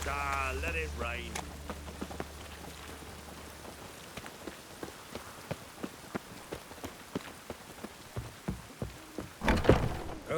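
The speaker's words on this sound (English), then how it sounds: "Ah, let it rain." Steady rain in The Witcher 3: Wild Hunt patters with distinct drops tapping at an irregular pace, preceded by a brief voice and a low hum, and followed by a sharper spatter near the end.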